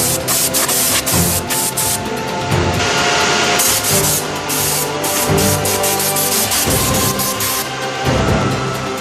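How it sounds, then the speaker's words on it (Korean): An industrial machine churning and mixing sorted down feathers for winter clothing, a steady loud rushing, rubbing roar with intermittent scraping bursts, continuous throughout with no voices. "솜털의 함량별로 1차 선별된 털을 다시 기계에 넣고 골고루 섞어줍니다"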